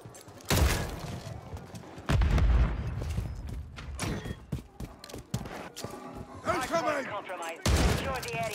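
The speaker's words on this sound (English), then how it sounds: "Grenade!" Call of Duty Modern Warfare 3 match on the Tokyo map with bursts of gunfire and heavy booming blasts, including a grenade explosion, loud and close, mixed with shouted in-game voice callouts.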